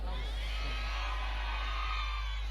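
A church congregation shouts and cheers together in a loud, sustained roar that fills the hall, with mixed voices whooping and yelling throughout.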